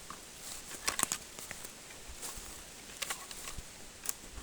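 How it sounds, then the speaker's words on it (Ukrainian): Light rain begins pattering in a forest, with scattered soft drops and brief rustles against a quiet background, faint and irregular throughout. "Те, що тільки дощ почався, оце фігово."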